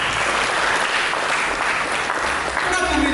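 A church congregation keeps up a full, steady applause throughout, loud and dense, with a voice faintly audible beneath the clapping.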